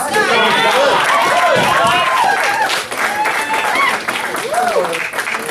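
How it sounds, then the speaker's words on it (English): An audience at a dog training graduation applauds and cheers steadily and loudly, with excited voices and dogs mixed into dense crowd noise. "audience, cheer them on"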